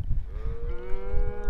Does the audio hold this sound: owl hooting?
no